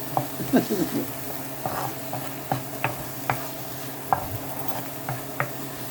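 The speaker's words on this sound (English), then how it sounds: "saute those for a few more minutes" Onions and peppers sauté in a pan for shrimp and grits, with a soft steady sizzle under repeated scraping and tapping of a utensil stirring the vegetables.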